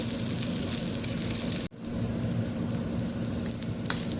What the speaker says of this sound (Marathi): टिक्कीला लाल कलर येतोपर्यंत आपल्याला पलटी करून शेकून द्यायचे